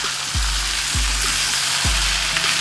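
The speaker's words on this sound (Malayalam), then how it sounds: "നമ്മുടെ കോവയ്ക്ക് ഇപ്പോൾ ഒരു 4 മിനിറ്റായി സിമ്മിലാണ് കിടക്കുന്നത്" Ivy gourd frying on a low flame sizzles steadily and close by, with a few soft thumps of stirring at regular intervals and no voices.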